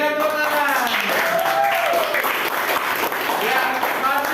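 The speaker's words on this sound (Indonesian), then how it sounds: "Berikan tepuk tangan." Classroom audience applause during a school guidance session: steady, dense clapping for several seconds, with voices talking and calling out over it.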